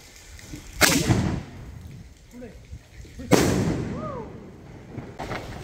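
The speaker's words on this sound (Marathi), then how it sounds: "एक गोल्डन कलरची तोफ आहे, तुम्ही बघू शकता" A golden Diwali firecracker cannon goes off in two sharp, loud bursts a few seconds apart. Each blast has a crackling tail, and faint voices can be heard in between.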